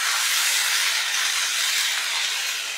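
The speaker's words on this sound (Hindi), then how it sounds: "तो पहले हम 2 मिनट बीच बीच में चलाते हुए फ्राई कर लेंगे" Potatoes with nigella seeds fry in hot oil, giving a loud, steady, close sizzle that holds evenly throughout without breaks or voices.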